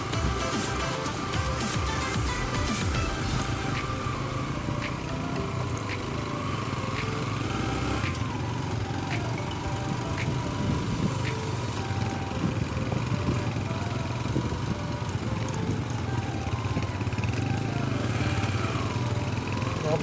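A motorcycle engine pulls in first gear along a rough mountain road, a steady buzzing drone throughout with irregular rattles and knocks from the uneven track.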